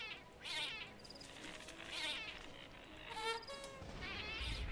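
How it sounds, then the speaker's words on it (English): Cat meowing in a video game: about four drawn-out meows spaced across a few seconds, fairly clear over a quiet, slightly noisy background, with no talking. "Kitty cat."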